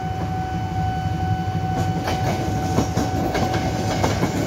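A KRL M7000 commuter train rolls past the Bukit Duri railway crossing with a loud, close rumble and rhythmic clickety-clack of wheels over rail joints, while a steady crossing warning tone rings throughout.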